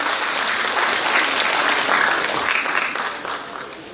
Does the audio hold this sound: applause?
yes